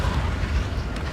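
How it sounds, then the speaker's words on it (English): Missile launch in the Ace Combat 7 combat flight game, a short dense rushing roar that stays loud and close from start to end. "Missile launch."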